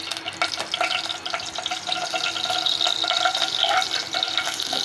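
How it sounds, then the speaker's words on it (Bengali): Cloves, cardamom and cinnamon sizzling in hot oil, a steady close frying crackle with scattered pops and a faint stirring rustle, no voices. "মশলাটা তেলে দিয়ে দিচ্ছি"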